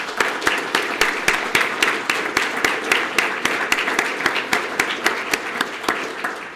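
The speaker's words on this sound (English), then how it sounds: "let's give them another round of applause" A crowd at a police department awards ceremony gives a round of applause, individual claps standing out sharply and rhythmically over a steady bed of hand-clapping that continues evenly for several seconds.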